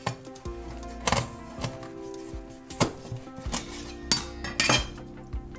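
A very sharp knife cuts through fish along the spine on a hard board, giving a series of crisp, irregular taps and knocks up close, with faint background clinks and no talk.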